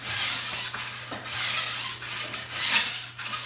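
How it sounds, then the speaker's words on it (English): A fairly coarse metal file is worked along a ski's sidewall edge during a tune-up, making close, rhythmic rasping strokes, about two per second, with no voices. "you're continuing on this edge using a file that's finer than the Panzer, but still fairly coarse"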